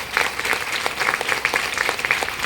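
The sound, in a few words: audience applause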